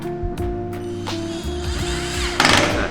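A power driver whirs and ratchets as screws go into a glass-topped cabinet with a solid lower section during assembly, a steady close mechanical drone with tonal hum and short clicking bursts, ending in a louder grinding push.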